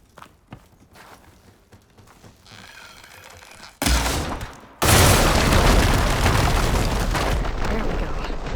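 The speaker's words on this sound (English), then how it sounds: "Shooting down that platform should smash through the wooden barricade." In Horizon Forbidden West, a platform is shot down and smashes through a wooden barricade: a sudden loud crash erupts, briefly eases, then a second heavier impact bursts into a sustained roar of splintering debris after quieter scattered sounds.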